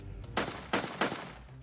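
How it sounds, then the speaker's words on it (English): Three loud gunshots fire in quick, slightly uneven succession, each a sharp crack with a short decaying tail, heard alone without any talk. "Or gunshots may sound like this."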